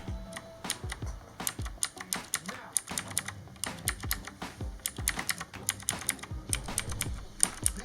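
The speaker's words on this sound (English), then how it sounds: "very clicky and pretty much just like every other blue keyboard out there" Rapid, clicky typing on an Aukey KM-G3 mechanical keyboard with blue switches, close up, with bursts of sharp keystrokes and brief pauses between them.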